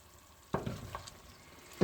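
Kavurma kısır mixture, a bulgur salad with lemon juice and pomegranate molasses, sizzling and being stirred in a pan, with soft frying hiss and a few scraping stirs, close and fairly quiet.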